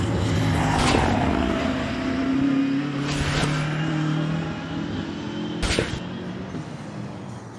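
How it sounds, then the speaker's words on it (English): Racing cars roll around the Nürburgring toward the grid before a four-hour endurance race, engines droning and rumbling steadily with a few louder passes sweeping by close. "Second and third groups of cars being led around to the grid"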